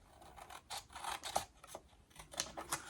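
A blade trims a thin sliver off the board of a handmade book fold box, giving a few close, quiet rasping cutting strokes in short uneven bursts with no talking.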